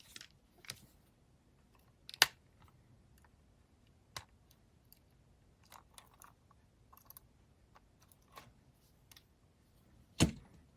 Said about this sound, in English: I just have to cut that peg off.